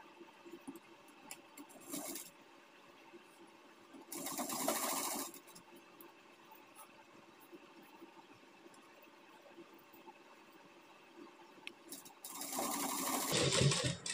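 A sewing machine stitches piping onto a blouse neck in short bursts, a quiet whirring run of a second or so repeated three times with near silence between, the final burst the loudest.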